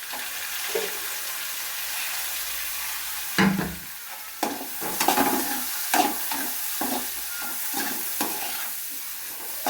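Green chillies and garlic sauté in butter in a pan, a low hiss under repeated scraping and clattering stirs that come in uneven bursts, close and fairly loud.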